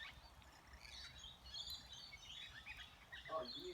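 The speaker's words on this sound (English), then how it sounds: "These lorikeets are always fun." Lorikeets call at a backyard feed bowl in the morning: quiet, shrill chirps and squawks come in bursts, rising and falling over a soft background.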